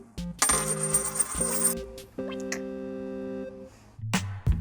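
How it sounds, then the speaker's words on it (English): A real silver coin drops onto a hard surface and rings out clearly, with several bright, sustained metallic tones following one another over a few seconds, close and loud with no voices. "Real silver coins sound better than coins made with base metals."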